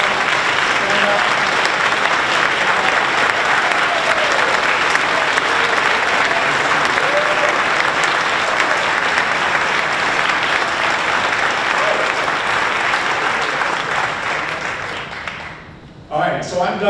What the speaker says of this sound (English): Could you all stand and take a round of applause?